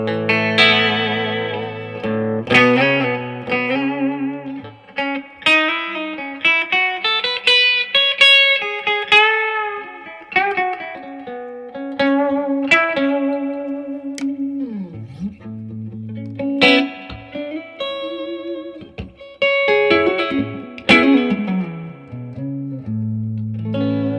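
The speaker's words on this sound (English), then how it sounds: "let's hear the guitar some more." A vintage Gretsch Country Gentleman electric guitar plays melodic single notes and chords with a Bigsby tremolo, warm and reverberant with wavering pitch bends, loud and alone with no talking.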